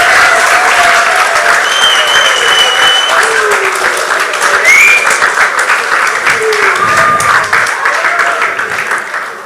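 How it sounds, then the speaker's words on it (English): Loud, sustained audience applause fills an awards ceremony hall as coaches are invited on stage, dense clapping with faint crowd voices and a few whistles throughout, tapering slightly at the end. "I want to hear the loudest applauses."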